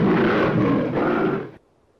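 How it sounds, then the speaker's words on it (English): Siberian tiger roar, a loud close rumbling growl sustained for about a second and a half before cutting off abruptly into near silence. "Our roars are very loud."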